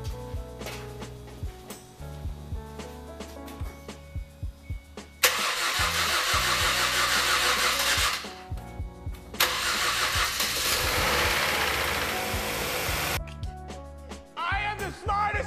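A Ford Escape's 2.3 Duratec engine, just fitted with a used cylinder head, cranks with rapid starter chatter and then catches into a loud running roar. It drops off, cranks again and fires a second time, and then a further round of clicks follows.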